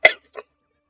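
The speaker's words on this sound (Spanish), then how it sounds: "No sé cuándo vaya a aguantar la tos." A person coughs once, sharply and close, followed by a shorter, fainter second cough, then silence.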